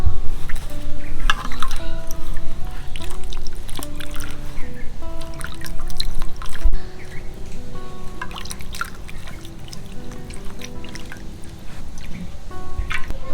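Whole palm fruit being rinsed under water: running and splashing water trickles and drips continuously with squishy handling noises, fairly loud and close, and no talking.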